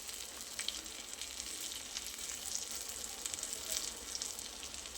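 Stuffed green chillies fry in a pan, giving a continuous, even sizzle of fine crackling spatter at close range, with no voices over it.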